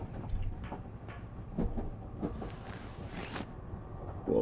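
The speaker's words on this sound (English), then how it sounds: "Oh dear, the train is making noises." Train in the video game Fear Equation making noises while running fast, a low rattling rumble with irregular clanks and creaks and a rising hiss near the end, no voices.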